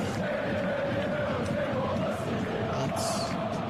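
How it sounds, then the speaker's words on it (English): English football fans roar and cheer at the Euro 2020 final against Italy, a dense, continuous crowd din with massed voices swelling throughout, loud and steady, with no single speaker standing out. "In their loud voices, they are cheering the 11 representing the country."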